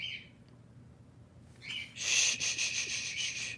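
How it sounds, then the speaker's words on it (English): An indoor pet bird bursts into loud, bright chirps and whistles in rapid repeated notes, preceded by a short faint call and quiet room tone. "I'm gonna have to cover that bird when I get up."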